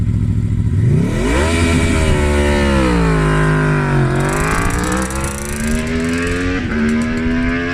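Tuana electric motorcycle launching down a quarter-mile drag strip at a 10.5-second pace, a loud rising whine sweeping upward as it accelerates, dipping briefly and climbing again, heard up close with no talk.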